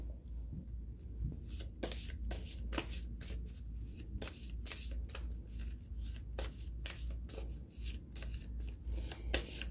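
A deck of astrology sign cards being shuffled, repeated crisp riffling and slapping bursts in an uneven rhythm, close and clear with no talk.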